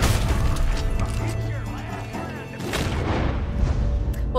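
A Springfield sniper rifle in Red Dead Redemption 2 gives heavy booming shots and mechanical bolt and reload clatter, loud and close amid other game noise.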